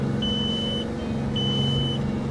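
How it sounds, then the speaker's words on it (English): Low-pressure warning beeper from an old American Truck Simulator rig with a realistic sounds mod, two sustained electronic beeps about a second apart over a steady low engine rumble. "You wouldn't really have this beeper in real life."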